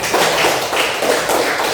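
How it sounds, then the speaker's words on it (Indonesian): A classroom full of students claps together in a continuous, fairly loud patter of hand claps with no talking over it. "Tepuk tangan untuk"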